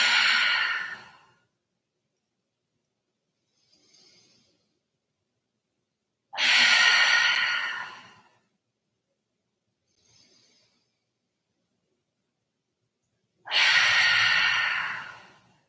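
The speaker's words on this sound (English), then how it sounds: "seal your lips to breathe in and out through your nose" Slow breathing in and out through the nose during a yoga session, three long airy breaths spaced several seconds apart with faint softer sounds between, close and quiet with no talking.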